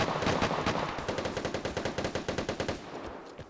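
Rapid automatic gunfire from several weapons in the video game Vigor, a fast run of sharp bursts that stays fairly quiet and distant and fades toward the end.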